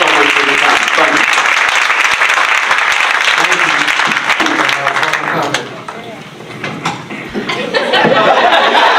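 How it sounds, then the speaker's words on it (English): An audience in a school meeting room at a district town hall on school safety claps loudly and steadily, with scattered chuckles, dipping briefly before the applause swells again. "I want to give a round of applause to everybody that's in this room"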